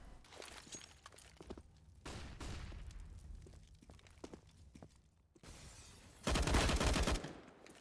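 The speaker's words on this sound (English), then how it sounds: "Shots coming through." Gunfire in a Counter-Strike esports match on the Train map: scattered single shots and short bursts, then a loud dense volley near the end.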